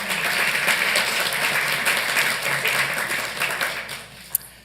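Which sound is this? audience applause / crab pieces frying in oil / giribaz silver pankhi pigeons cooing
audience applause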